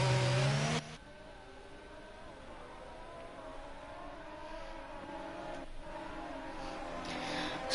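Race cars in an ERL racing video game roll through a formation lap at night in the UAE, a steady mid-level engine drone with a louder burst at the start and a faint rise near the end.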